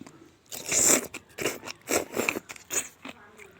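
Crunchy homemade kimchi is chewed up close, a run of sharp, crisp bites and crunches in an uneven rhythm, one after another, with no talk.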